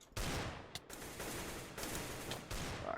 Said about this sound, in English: the cops actually shoot at you